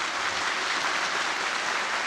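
Audience applause after a sustainable development prize lecture: steady, dense clapping from a large crowd, loud and continuous throughout with no voices over it.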